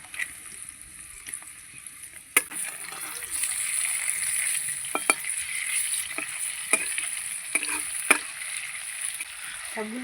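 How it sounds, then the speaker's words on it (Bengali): Paneer cubes sizzle and spatter in hot oil as pieces drop in and get turned, with sharp clinks and splashes over a continuous frying hiss at close range. "এই যে পনির ভেজে নিচ্ছি"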